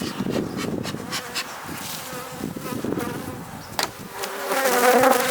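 Honey bees buzz thickly around an open queen-rearing cell builder hive, a close, droning swarm whose pitch wavers as individual bees pass near, with faint handling knocks.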